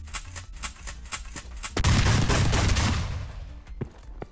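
Video game gun's alternative fire mode: a run of sharp single shots, then a loud, sustained blast with heavy low rumble that lasts about a second before fading, with a few faint clicks after.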